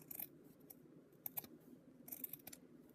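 Scissors snipping through a premade fabric flower collar, a few sharp close cuts in short bursts separated by quiet pauses, no voices.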